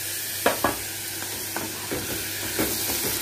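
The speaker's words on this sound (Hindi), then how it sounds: "अब मैं इसमें ये अनियंस डाल दूँगी जो मैंने चॉप करके रखे हुए थे" Chopped onions drop into a pan of golden frying garlic, followed by a steady sizzle and a series of close spatula scrapes and clacks as they are stirred.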